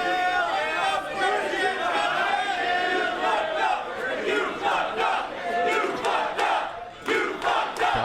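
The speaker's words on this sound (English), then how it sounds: "Crowd chanting, "You effed up,"" Wrestling crowd at a live pro wrestling tag-team event chanting loudly in rhythmic unison, a dense roar of voices with shouts and chatter filling the whole stretch.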